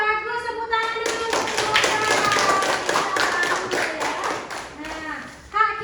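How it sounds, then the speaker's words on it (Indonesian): Primary school classroom clapping, a rhythmic patterned round of pupils' claps in quick even beats, bracketed by a teacher's voice at the start and end. "Bagus, tepuk tangan dulu."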